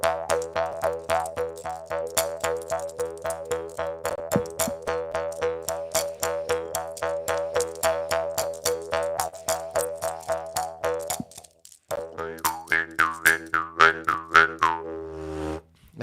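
Jaw harp with a cutout around the center of percussion, plucked in a quick, even rhythm of bright twanging buzzes with sweeping overtones, close and loud, briefly pausing near the end before resuming.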